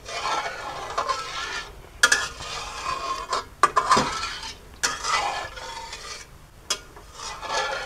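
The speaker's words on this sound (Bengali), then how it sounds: "দুধটাকে নাড়তে থাকবো।" Milk stirred in a pot over high heat while being cooked down into condensed milk, with a spoon scraping and clinking against the pot's sides in an uneven, steady rhythm, close and clear with no talking.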